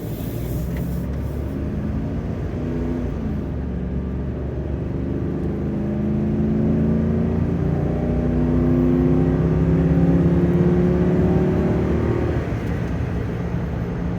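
A 2004 Dodge Ram 1500 with a 287 V8 and a cold air intake pulls away from a stop, engine droning loudly from the cab and rising in pitch through the gears, steady and continuous with no talking.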